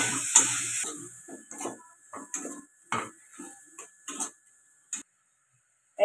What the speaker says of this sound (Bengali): এই আখ গুড়টা দিয়ে ভালো করে নারকেলটা মেরে দিচ্ছি